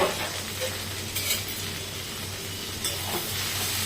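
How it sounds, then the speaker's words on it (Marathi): Okra sautéing in oil in a pan gives a steady close sizzle with occasional scraping and stirring, with no talk. "आपल्याला परतवून घ्यायचं आहे हे बघा भेंडी ना छान अशी तेलामध्ये"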